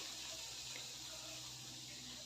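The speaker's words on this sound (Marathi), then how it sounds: "ते गरम झाले की नाही चेक करण्यासाठी मी थोडंसं पाणी मारून घेते" Water splashed onto a hot nonstick dosa pan heated on a gas stove makes a steady, close hiss that runs for a couple of seconds.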